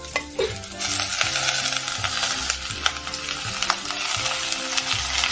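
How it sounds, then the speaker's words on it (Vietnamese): Beef tendon sizzles and crackles loudly as it is stir-fried in a pot with golden garlic and crushed lemongrass, a steady dense frying hiss with occasional sharper pops and stirring scrapes throughout. "Tiếp theo là mình sẽ cho cái phần gân bò vào nha."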